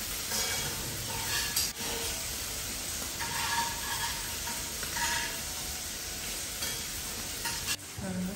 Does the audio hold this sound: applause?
no